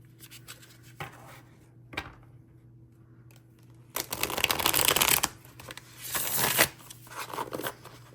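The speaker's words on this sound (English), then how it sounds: "Let us shuffle." A deck of cards is riffled and shuffled nearby in a few bursts, with light handling clicks and rustles between the louder riffles.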